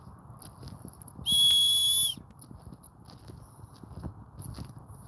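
A loud, piercing whistle held steadily for under a second, standing out over faint rustling and scattered hoof-like clops.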